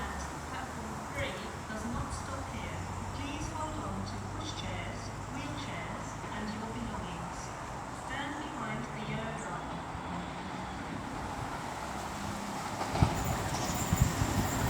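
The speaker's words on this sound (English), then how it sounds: "What's this Voyager doing? Avanti West Coast Voyager." Avanti West Coast Voyager train passing at Rugeley Trent Valley on the West Coast Main Line, a steady rumbling roar that holds throughout, with a few sharp clanks near the end.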